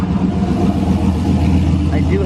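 Turbocharged LS-swapped GMC Envoy engine idling loud and rough, a steady deep rumble throughout, close to the microphone.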